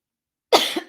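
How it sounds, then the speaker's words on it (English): A single man's cough, sharp and close, bursting out of silence with a short throaty tail. "I'm going to keep my coughs in here."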